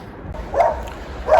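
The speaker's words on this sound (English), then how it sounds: "the dog's barking, sorry" A dog barks twice in a back garden at night, two short moderately loud barks about three quarters of a second apart over faint background hiss.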